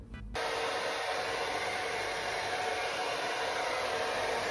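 A hair dryer runs continuously at full power while drying hair, a loud, even, broadband blowing roar that starts abruptly and holds steady for several seconds, with no talk.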